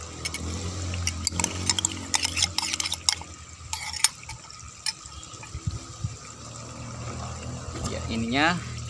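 Liquid bionuclear fertilizer water poured into a container holding used coffee grounds, giving a close splashing, trickling pour with stirring and clinking, under ongoing talk.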